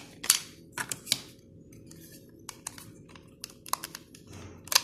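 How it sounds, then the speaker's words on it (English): Plastic lids of a Raspberry Pi 3 case being opened, a run of sharp clicks and snaps in irregular bursts, close and fairly quiet with gaps between. "first of all, you have to open that top lid, then the side lids"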